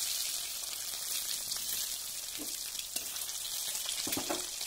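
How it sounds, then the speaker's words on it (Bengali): Eggs frying in hot white oil in a pan, a soft steady sizzle with a few faint crackles and pops, quiet and close with no voices. "তেল ভালো করে গরম হওয়ার পর ডিমগুলোকে আস্তে আস্তে এইভাবে"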